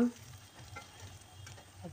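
Dahi vada frying in hot oil as the pieces are turned until golden, a soft, low, continuous sizzle with faint stirring clicks and no talk.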